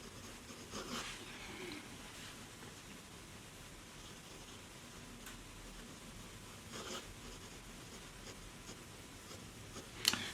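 A Lamy Nexx fountain pen writing in red ink, its nib making a soft, continuous scratchy hiss across paper, quiet and close, with a few louder strokes and a small tap at the end.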